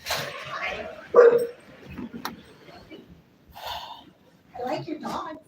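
A dog barks a few times nearby in bursts with pauses between, mixed with snorting and whimpering sounds, while people talk in the same space.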